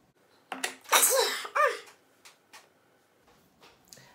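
A single sharp human sneeze bursts out loudly, followed by a few fainter breathy sounds and small noises in a quiet indoor room.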